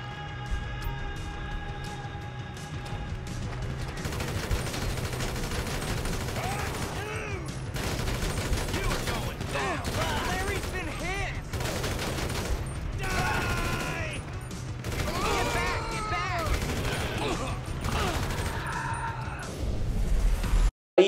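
Gunfire in GTA 5 while shooting rednecks: repeated bursts of shots crack out in clusters over a continuous game soundscape, with voices and shouting mixed in.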